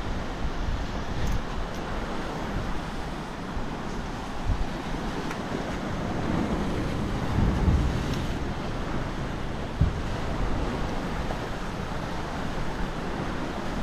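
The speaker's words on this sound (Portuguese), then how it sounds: "Parece que a onda já vem aqui." Ocean surf washing onto Praia da Ferradura beach in Armação dos Búzios, a continuous broad roar of waves mixed with wind buffeting the microphone, steady and fairly loud.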